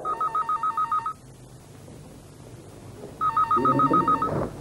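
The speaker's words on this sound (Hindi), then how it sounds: "फोन सुनना।" An old-style telephone rings in two bursts of rapid electronic trills, loud and close, separated by a short quiet gap, with faint household sounds during the second ring.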